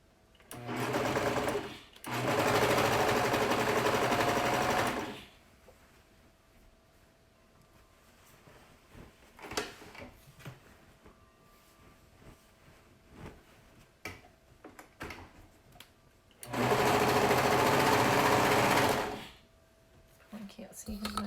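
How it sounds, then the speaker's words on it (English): A sewing machine stitches the seams of a dress in three loud, steady bursts of a few seconds each, separated by quieter stretches of handling and soft speech. "we're gonna go ahead and we're gonna sew the bottom of the dress"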